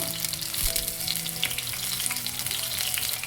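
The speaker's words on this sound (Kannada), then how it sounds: "ಅದು ಎಣ್ಣೆ ಸ್ವಲ್ಪ ಬಿಸಿ ಆದಮೇಲೆ ಬದನೆಕಾಯಿನ ಹಾಕೋಣ" Eggplant pieces sizzle and fry in hot oil in a pan, a steady dense crackle that runs throughout, close and fairly loud, with no voices.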